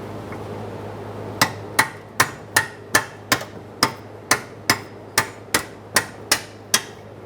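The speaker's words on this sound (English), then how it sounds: "Use a hammer and punch if necessary." Hammer striking a punch to drive out the lower rearward control arm center bolt on a 1992-1996 Toyota Camry, about fifteen sharp metallic blows at a steady even rhythm, close and loud, with a low steady hum underneath.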